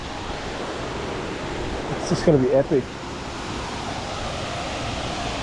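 Big Falls waterfall in Washpool National Park, New South Wales, a loud steady broadband roar of falling water throughout, with someone briefly talking over it.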